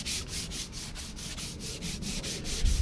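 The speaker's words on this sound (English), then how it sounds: "literally just sanding it down" A fiberglass-style car wing on a Camaro is being sanded by hand, the paper rubbing back and forth in a steady rhythm of about four strokes per second, close and unaccompanied by any voice.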